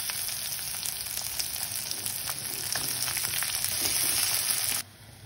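Chopped onion hits hot oil with a bay leaf, setting off a steady, close sizzle and crackle of frying that holds for about five seconds before cutting off abruptly.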